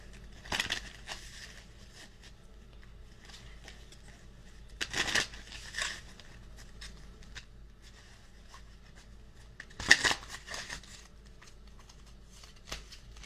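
Oracle cards being shuffled by hand, three short papery bursts of riffling and crinkling spaced a few seconds apart, close and quiet with soft handling noise between.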